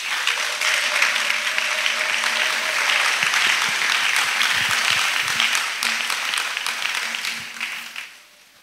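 A church congregation applauds Jesus Christ at the opening of a pastoral academy session, giving steady, dense clapping that holds for several seconds and then fades out.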